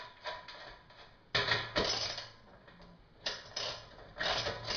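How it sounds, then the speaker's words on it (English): A 7/8 inch socket wrench ratchets while tightening a fitting on a Cornelius keg, giving close, repeated clicking bursts separated by short pauses. "So we're using our 7/8" socket to actually tighten it down."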